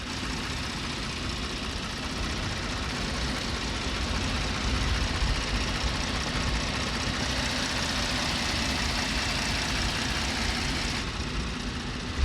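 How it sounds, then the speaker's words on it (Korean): A Kia K9 engine running steadily, likely idling with the hood up, giving a continuous close low hum and whir that stays even throughout with no talk. "자, 엔진음 한번 볼게요."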